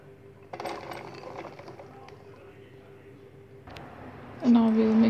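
Pumpkin pieces tipped into a pan of gravy while cooking khatta meetha petha give a few scattered clattering drops, followed by a louder burst of sizzling near the end.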